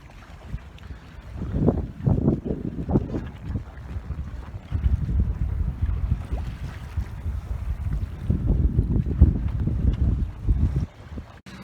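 Sailboat under engine with sails filled, heading for Caernarfon Bar off Anglesey in a 10–11 knot breeze; a steady low engine drone runs throughout beneath buffeting wind noise and rushing water.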